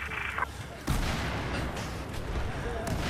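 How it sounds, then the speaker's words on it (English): A grenade goes off in the video game Battlefield 4 as a sudden loud boom, followed by a sustained rumbling wash of battle noise. "Grenade!"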